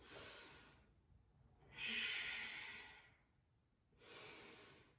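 Deep Ujjayi breathing during a yoga flow, slow and soft, with long airy inhales and exhales rising and falling over a few seconds, close and faint with no talk.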